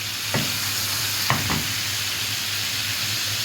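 Chicken wings sauté in a pan with onion and tomato over high heat, a constant even sizzle with a couple of brief stirring scrapes near the start, close and alone.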